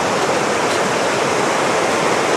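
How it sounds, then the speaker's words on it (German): The Sieber river flowing, a loud continuous rushing roar that stays steady and close throughout, with no voices over it. "Aber trotzdem irgendwie ein cooler Fluss."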